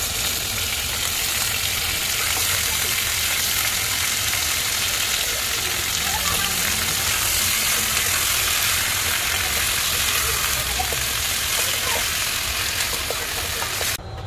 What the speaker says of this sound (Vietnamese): Tỏi với gừng thơm là mình cho vịt vào.